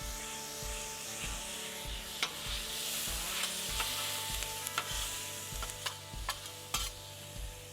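Chopped onions seasoned with adobo sizzle on a hot griddle, a steady frying hiss broken by regular scraping and tapping strokes of a spatula, close and moderately loud with no talking.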